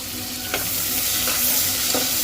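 Onions frying on low flame with cinnamon, cloves and bay leaf for country chicken biryani make a loud, continuous close-up sizzle, with three light stirring scrapes spaced evenly through it and no talking.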